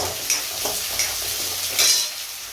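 Green peas popping and spitting in a hot pan, a steady frying sizzle with a few sharp pops and crackles standing out, close and moderately loud.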